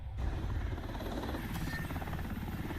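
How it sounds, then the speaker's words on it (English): A helicopter in the Rainbow Six Siege video game gives a steady low rotor drone and engine buzz that holds loud and unbroken from start to finish, with faint game sounds layered over it. "So yep, you drop out of the helicopter."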